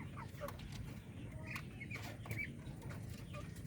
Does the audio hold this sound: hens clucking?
yes